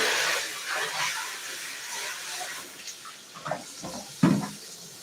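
Tap water runs and splashes into a dog's water bowl with a steady hiss that fades and shifts, ending with a few knocks and clunks near the close, fairly close with no talk.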